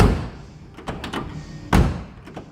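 A Z28 car door swings shut with solid, close thunks, the second one heavier, and no rattle after it.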